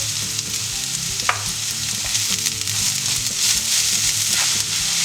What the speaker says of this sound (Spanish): Dejamos que se cocine la cebolla, que no sea un fuego muy fuerte para que no se nos queme